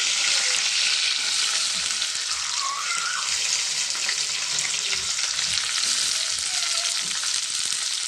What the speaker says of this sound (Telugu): దీంట్లో ఉల్లిపాయలు, పచ్చిమిర్చి వేసేసుకున్నానండి.